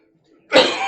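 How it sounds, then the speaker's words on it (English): A single short, throaty cough close to the microphone, following a moment of near silence, with a breathy tail as it fades. "It's just a little cough."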